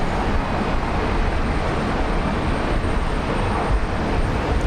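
A Qantas Airbus A330 airliner takes off from Brisbane Airport, its jet engines giving a steady, loud, broadband roar that holds evenly throughout with no voices over it.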